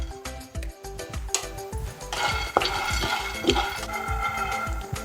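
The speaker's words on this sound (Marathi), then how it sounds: "लगेचच शेंगदाणे भाजून घेऊ." Peanuts dry-roasting in a pan for a Maharashtrian dish, stirred with repeated quick scrapes and clinks of a utensil against metal, a soft rattling of nuts between strokes, close and fairly quiet.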